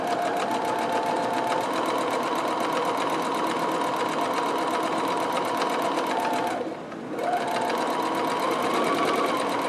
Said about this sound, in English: I'm just going to set my ruler there and just sew kind of a pocket